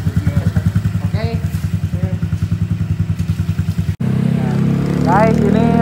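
A Honda Vario 125 motorcycle (2019) fitted with a CLD C1 aftermarket exhaust idles with a loud, even thumping pulse, then shifts into a smoother, louder rev. Faint voices can be heard in the background.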